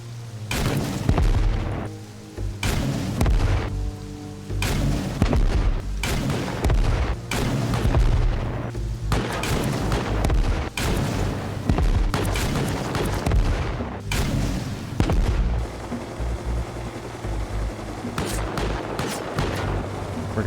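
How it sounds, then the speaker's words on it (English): HV rockets fired at turrets in the survival game Rust, a long run of loud, close booming launches and impacts in uneven bursts, with a steady low hum underneath. "now I can HV out the turrets from up here"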